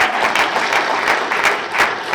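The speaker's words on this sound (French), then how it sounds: "Alors nous allons applaudir pour elle." Guests at a wedding reception clap for a bride, a dense, loud burst of applause from a crowd that keeps a steady, slightly pulsing texture for the whole two seconds.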